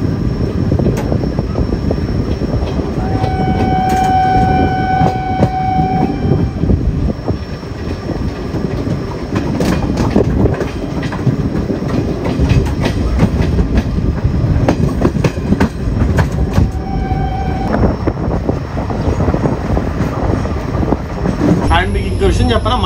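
A nearly empty city passenger train on an old Bengal Nagpur Railway route near Kolkata rumbles loudly along the rails with steady clatter and faint whistling tones, while people talk over the noise.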